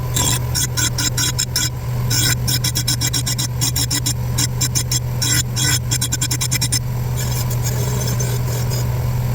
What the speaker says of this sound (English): let's take these off and sharpen them